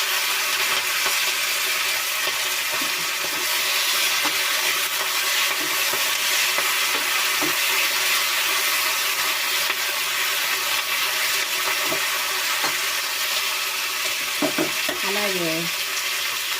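Drumstick leaves and curry leaves fry in a pan with a loud, dense, continuous sizzle and occasional stirring, close up; a brief tonal chirp rises near the end.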